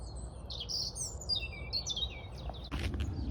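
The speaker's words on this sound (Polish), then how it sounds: "Koniec świerkania ptaszków" Several birds chirp and tweet in quick high trills over a low steady background rumble, fairly close, with a brief knock near the end.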